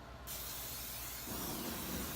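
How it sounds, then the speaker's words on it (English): Aerosol cooking spray hissed onto a barbecue grill grate, a continuous close breathy spray that starts abruptly and keeps going, with a deeper rushing layer joining partway through. "give it another scrape, I'll give it another spray"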